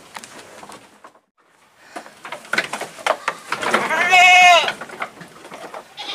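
A male goat at a livestock trader in East Lampung, Indonesia, bleats loudly and wavers for about a second, surrounded by bursts of nearby talking and some clattering.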